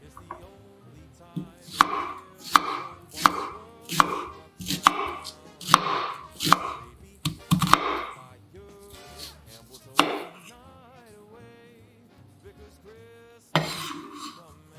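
Half a red onion chopped on a board with a knife: a run of sharp, close, evenly spaced cuts that speeds up in bursts, with brief pauses and a final flurry at the end, no talk.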